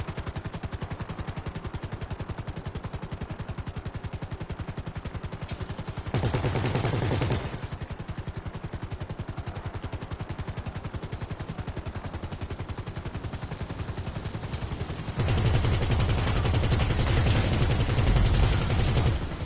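Sustained rapid automatic gunfire in GTA 5 Online, dense rattling bursts continuing throughout with two louder, heavier stretches of shooting, no talk.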